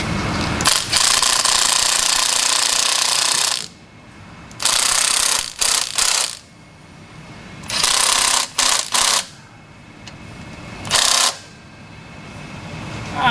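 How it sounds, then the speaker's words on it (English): Pneumatic impact gun on a 1967 Pontiac GTO, firing in several loud, close bursts of rattling hammering, some long and some short, separated by quiet gaps. "I suppose I should turn my torque up on my gun."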